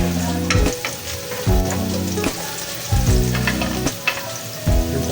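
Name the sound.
sautéing onion, garlic and ginger in a pan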